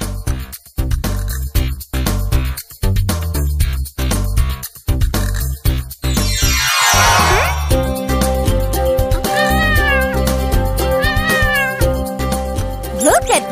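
A mother cat and her kitten meow repeatedly in loud, rising calls over a dense bed of background sound, with a high whistling sweep partway through and steady tonal layers after it.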